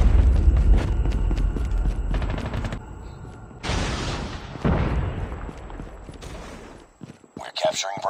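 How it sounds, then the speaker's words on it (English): In Call of Duty Mobile, a Shock RC drone is destroyed amid loud gunfire bursts and booming explosions, with sharp rapid shots and heavy blasts throughout and game voice lines mixed in. "Friendly Shock RC has been destroyed."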